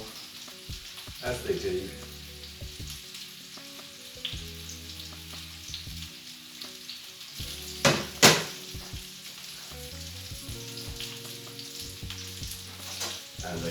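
Sliced tomatoes fall into a hot pan beside steak tagliata and break into a steady, crackling sizzle with scattered pops and a brief sharp spatter; a voice speaks briefly over the frying.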